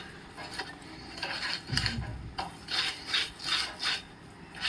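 Cooked puran made from chana dal is pressed and scraped through a metal sieve, giving a soft rasping, rubbing rhythm in repeated close strokes at low volume with no talk.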